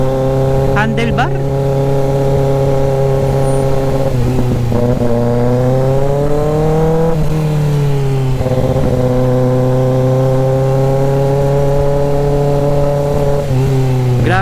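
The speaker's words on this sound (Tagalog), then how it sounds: "Grabe yung ungol ng makina pag naka-primera ka lang eh." Motorcycle engine roaring loudly in first gear on a ride, a steady harmonic drone that rises and falls with throttle changes throughout, close and continuous.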